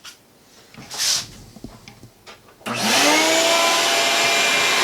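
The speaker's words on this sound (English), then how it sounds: "So if I'm going to turn the vacuum on now," A shop vacuum serving as a workshop dust collector switches on after some quiet handling noises, jumping to a loud, steady, broadband roar that continues to the end.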